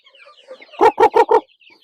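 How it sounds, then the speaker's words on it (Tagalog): Young Darag hens cluck close by in a farmyard, a run of four loud, evenly spaced clucks following softer scattered chirps and murmurs. "Ito, mga darag oh."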